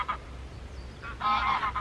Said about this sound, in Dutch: Er liggen allemaal ganzen achter.